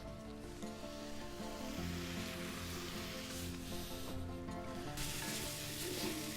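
Fresh bok choy stir-frying over a strong flame in a hot pan, a steady faint sizzle with brief surges of hiss as it is stirred, close and continuous, no voices.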